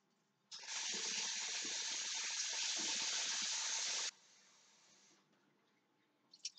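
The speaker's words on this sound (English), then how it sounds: "So what I do is I pour this water off and put some cold water on" Cold tap water runs steadily into a pan of cooked scallops in a kitchen, a loud, even gush for several seconds that then cuts to a faint trickle, followed by small clinks.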